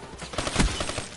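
Gunfire in a PS4 online shooter game comes as a short, dense burst of rapid shots over game ambience, peaking in the middle and fading quickly within about a second.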